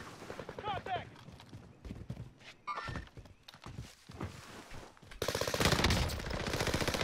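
Gunfire in the Warzone battle royale game comes in rapid repeated shots, building to a loud, sustained stream of automatic fire toward the end, mixed with a player talking.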